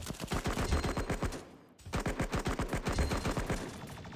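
Rapid machine gun fire in the video game Cover Fire, a loud continuous burst of evenly spaced shots that briefly cuts out near the middle and then resumes, with no talk.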